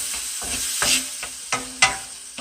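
A flounder and shrimp mixture sizzles steadily in a hot pan while a spoon stirs it, with a few distinct scraping clacks against the pan over the constant frying hiss.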